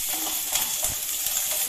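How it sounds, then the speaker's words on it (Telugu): Green chillies frying in a little oil for a bitter gourd gojju give a steady, close sizzle with crackling pops and occasional stirring scrapes, no voices. "పచ్చిమిర్చికి కొంచెం ఆయిల్ వేసి వేయించుకుందామండి."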